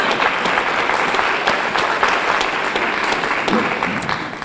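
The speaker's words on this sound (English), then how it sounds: "May we have a round of applause for Dr. Partridge's work" Audience clapping at an economic development council annual meeting in honour of Dr. Partridge's breast cancer program work, a loud, dense round of applause from a room full of people, steady throughout.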